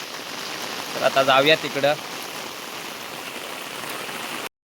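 Heavy monsoon rain falls in the Konkan countryside near a flooded paddy field, a constant dense hiss of downpour throughout, with someone speaking briefly over it before it cuts off.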